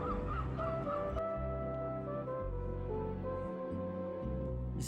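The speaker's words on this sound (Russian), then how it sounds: "Чайки очень сильно кричат здесь." Loud, harsh calls of seagulls ring out over Flensburg's harbour on a Baltic Sea inlet, several birds crying in overlapping bursts against a steady background hum with no talking.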